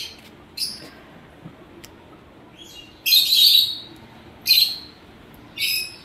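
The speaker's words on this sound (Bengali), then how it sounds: "পাখিগুলো ডাকছে।" Birds call close by in a quiet room, giving four short, sharp, high-pitched chirping bursts spaced irregularly through an otherwise calm, near-silent background.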